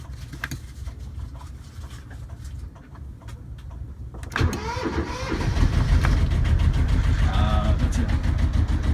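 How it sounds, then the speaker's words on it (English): A sailboat's inboard engine cranks and then catches after three weeks on a mooring in the Matanzas Pass mooring field at Fort Myers, rising into a steady, close, low idling chug with no talk. "will she turn over the engine?"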